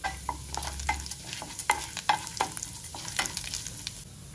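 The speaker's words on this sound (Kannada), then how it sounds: "3-4 ಸ್ಪೂನಷ್ಟು ಎಣ್ಣೆ, ಸಾಸಿವೆ ಸಿಡಿದಿದೆ" Mustard seeds, chana dal and urad dal frying in a few spoons of hot oil for tomato gojju, with steady sizzling and sharp, irregular popping crackles and spoon scrapes close by, no voices.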